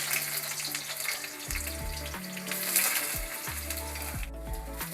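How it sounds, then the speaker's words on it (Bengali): Eggplant frying in hot oil in a wok gives a steady sizzle and crackle under prominent background music with low, stepping tones. "বেগুনটা ছেড়ে দিলাম কড়াইতে।"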